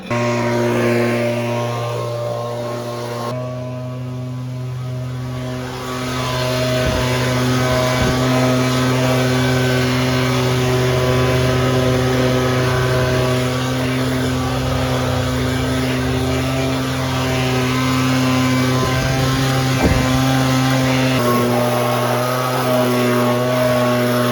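An old silver Beauty 8250 machine runs loudly and steadily with a strong droning hum and harmonic tones, a continuous close mechanical roar that barely changes throughout.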